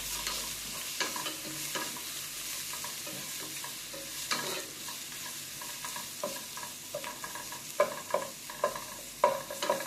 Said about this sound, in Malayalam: ഇതും കൂടി ചേർത്ത് നന്നായി ഒന്ന് മിക്സ് ചെയ്ത് കൊടുക്കാം